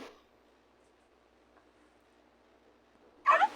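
After a long near-silent stretch, a single short dog yip from the Toca Life World video game rings out clearly at the very end.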